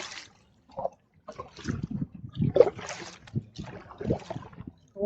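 A kayak paddle strokes and splashes through the water of the Tennessee River, with irregular close splashes and drips in a steady paddling rhythm and a faint breeze behind.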